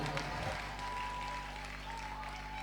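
A church congregation clapping during a testimony service, a dense wash of applause that sustains and slowly fades, with voices mingled in the crowd noise.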